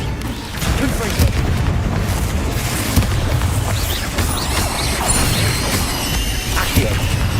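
Confringo blasting spell from the Hogwarts Legacy video game: loud, continuous booming blasts with crashes and whooshes layered over one another, dense and sustained throughout.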